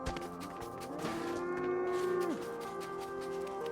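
Cow mooing in the Sand Land video game: one long, clear, low moo that rises, holds, and drops off, heard alone over a steady faint background.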